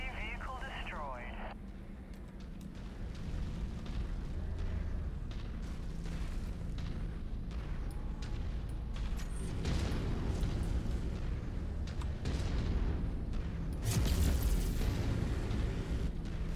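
Explosion of a destroyed enemy vehicle in the MechWarrior 5 mech combat game, a sustained rumbling blast with a brighter burst near the end, heard over continuous battle noise.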